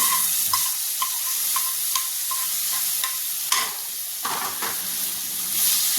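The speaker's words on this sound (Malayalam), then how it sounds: "ഇതിലേക്ക് നമ്മൾ ഊറ്റി എടുത്തു വെച്ചിരുന്ന മാങ്ങ ചേർക്കുന്നുണ്ട്" Raw mango pieces tipped into a hot pan of oil seasoned with turmeric, then stirred with a spoon that taps the pan rim in a regular rhythm over a constant sizzle, close up with no voices.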